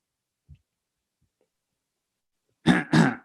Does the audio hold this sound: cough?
yes